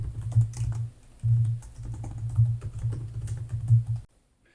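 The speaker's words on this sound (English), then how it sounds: "now we can just type in the URL for the Helios repository on GitHub." Close, loud keystrokes clatter on a computer keyboard as a URL is entered, a steady irregular run of clicks with brief pauses that stops abruptly near the end.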